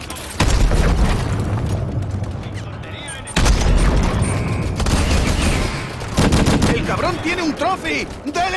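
Rocket launcher blasts and heavy explosions against a titan in the Call of Duty Advanced Warfare campaign mission Fission, loud booms at the start and mid-clip amid continuous gunfire and battle noise, with shouted voices underneath.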